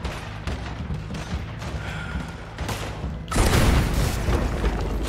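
A gunshot in the video game Red Dead Redemption 2 rings out as a sudden loud boom, followed by dense rumbling game noise over a busy background.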